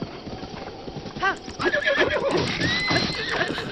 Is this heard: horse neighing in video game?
yes